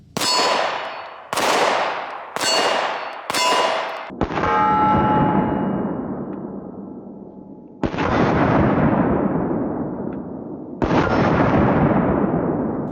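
Handgun shots from cheap pistols, one a Taurus, firing cheap steel-cased ammo: four sharp reports in quick succession, then three louder blasts with long ringing decay, all close and loud with no talk.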